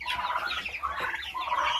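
Turkeys gobble and cluck steadily in a lively, overlapping chorus of shrill calls that runs continuously at close range, with no human voices.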